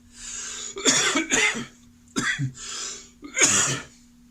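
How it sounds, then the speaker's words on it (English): A person coughs several times in short bursts, with throat clearing between them, close up against a quiet background and a faint steady hum. "And I do clear my throat a lot, and I do cough a lot."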